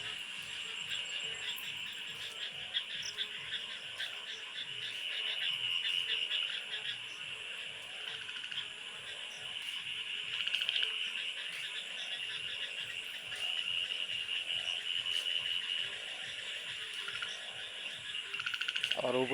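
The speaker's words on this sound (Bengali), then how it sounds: "ব্যাঙ মামার ডাক," Frogs croak in a dense, continuous chorus under light drizzle and a cloudy sky, rapid pulsing calls layered over a high shrill trill, steady and moderately loud throughout.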